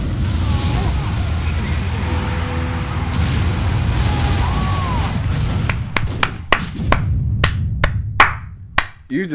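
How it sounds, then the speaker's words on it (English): Sparse clapping in a Team Fortress 2 game session, several sharp separate claps near the end after a stretch of low game noise and background murmur. "You deserve a clap."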